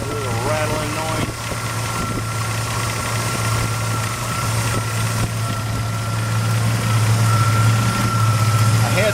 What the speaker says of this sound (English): I'm still suspecting my second compressor is junk because here it makes that little rattling noise.